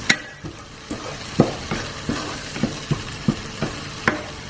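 Coriander, cumin, garam masala and turmeric frying in oil, stirred with a spoon that scrapes the pan in a regular rhythm of sharp knocks over a constant close sizzle.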